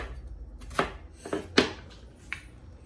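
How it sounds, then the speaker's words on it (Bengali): A knife slicing onion thinly on a board for a radish and prawn curry, four distinct crisp cuts spaced unevenly over a quiet background, with no talking. "একটু চিকন করে পেঁয়াজ কেটে নিচ্ছি"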